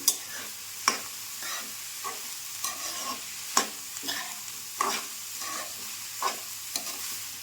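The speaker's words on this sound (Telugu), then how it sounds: "ఉల్లిపాయలు బ్రౌన్ కలర్ వచ్చేంత వరకు వేయించుకోవాలి" Onions with green chilies and salt frying in a pan for egg pulusu, a steady soft sizzle broken by about a dozen sharp scraping stirs of a spoon against the pan, close and without speech.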